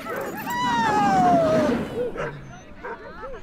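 Sled dogs at a dog-sledding outing give a drawn-out whining howl that slides downward, followed by a few short yips and whimpers, fairly close and moderately loud over outdoor background.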